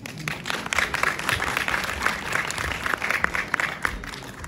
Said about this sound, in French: Et on applaudit les retardataires,